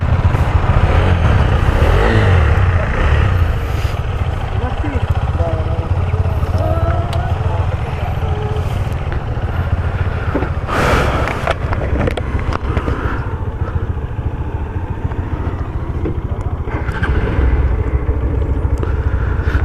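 A Hero Xtreme 160R motorcycle engine drones steadily as the bike rides along, wrapped in wind rush, with occasional voices faintly underneath.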